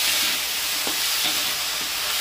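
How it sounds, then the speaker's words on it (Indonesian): Ham stir-fry (tumis ham) sizzles steadily in a hot pan while a utensil stirs it, giving a constant bright frying hiss with a few soft scraping taps. "Aduk sampai merata."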